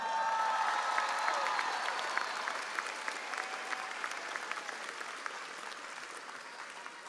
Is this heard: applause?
yes